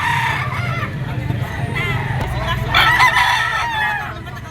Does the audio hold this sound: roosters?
yes